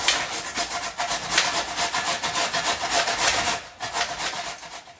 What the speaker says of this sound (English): And then you grate the potatoes.